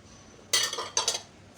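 Mutton keema with green chillies and onion is mixed in a metal karahi, giving two short bursts of bright utensil clinks and scrapes against the pan over near silence.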